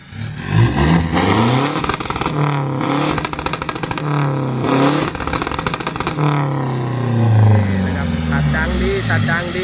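Toyota Revo pickup engine fitted with an ECU piggyback box revs hard and loud up close, rising and falling through repeated throttle blips with a gritty, sustained drone.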